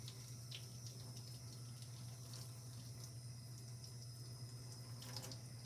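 Tap water runs steadily into a sink while hands are rinsed, a constant close hiss and splash with no pauses and no speech.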